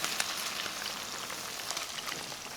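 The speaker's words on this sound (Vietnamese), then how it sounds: "Và mình cứ chiên như vậy cho đến khi thịt vàng săn lại." Pork belly fries in a pan of hot oil, giving a steady, close crackling sizzle with small pops scattered throughout. No one speaks.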